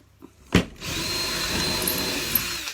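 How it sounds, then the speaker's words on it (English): A brief click, then a power drill whirs steadily and close by, a continuous high-pitched grinding as the bit bores into timber for a wooden frame. "And drill."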